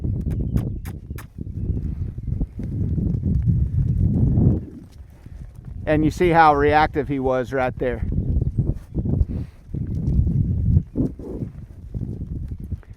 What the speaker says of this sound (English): trotting around there with a little bit more spring in his step